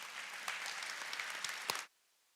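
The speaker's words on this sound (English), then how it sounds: "A round of applause to our faculty and staff." Sustained applause from a White Coat Ceremony audience for faculty and staff at Touro University Nevada's College of Osteopathic Medicine, a dense steady clapping that cuts off abruptly near the end.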